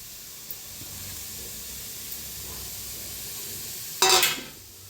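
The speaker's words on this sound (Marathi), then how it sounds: "कढाई चांगली गरम झालेली आहे, ह्याला भाजून घेऊया आपण शेवग्याला" Drumstick pods roasting in a hot kadai on a gas stove, a low steady hiss then a sudden loud burst of sizzling near the end that fades quickly, close with no speech.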